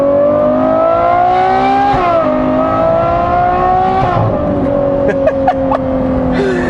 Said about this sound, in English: the amount of engine braking you get as well, obviously, with this V12, very, very torquey